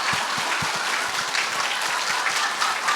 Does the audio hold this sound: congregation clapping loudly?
yes